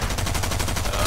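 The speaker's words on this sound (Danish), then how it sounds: "Det var skudt fra to andre sider også." Rapid gunfire in the Fortnite video game, a steady run of evenly spaced shots that fills the whole second at close, loud level with no talk.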